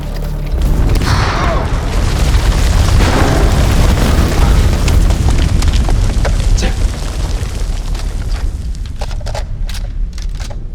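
A grenade explosion in the video game House of Ashes goes off as a loud, deep boom and keeps rumbling with debris and crackling bursts for several seconds. Sharp pops and clatter scatter through it as it fades.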